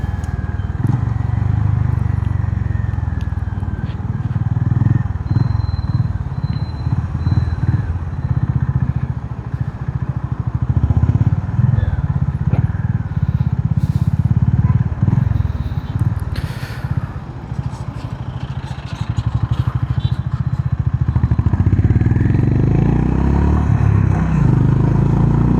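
Engine of a 2025 Honda CB350RS retro motorcycle heard from the rider's position while riding, a steady loud low thrum with slight rises and dips in revs over wind and road noise, no talking.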